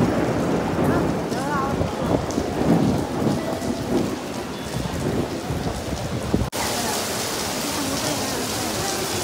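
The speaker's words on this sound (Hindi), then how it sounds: "बारिश आ रही है" Heavy rain pours in a steady roar during a storm in Mumbai, with deep rumbles of thunder rolling underneath and voices talking over the downpour at times.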